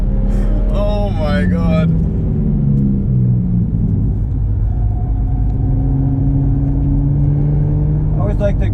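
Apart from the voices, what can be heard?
500hp BMW M135i engine accelerating on track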